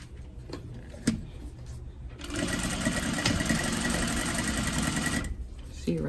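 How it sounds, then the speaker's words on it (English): A sewing machine runs in a single close, continuous stretch of fast stitching along the edge of a mini tote bag. A few clicks of handling come before it and quieter sounds follow. "we're gonna be sewing this right at the very edge"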